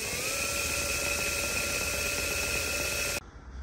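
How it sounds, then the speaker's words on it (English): A power drill bores a hole into the body of a Land Rover Defender, giving a steady high whine with a shrill squealing tone that holds for about three seconds and then stops abruptly. "So I've drilled that hole now straight to there."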